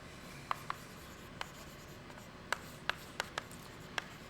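Chalk or marker on a board during a math lecture, a faint series of about eight short, sharp taps and strokes spaced irregularly in a quiet room.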